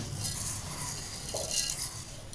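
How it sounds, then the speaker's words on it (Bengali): A spoon scoops sugar into yogurt for a rose lassi, making faint metallic clinks and soft scraping against a bowl. Brief, quiet taps sit over a low background hiss, with no speech. "2 থেকে 3 চামচ চিনি দিয়ে দিলাম"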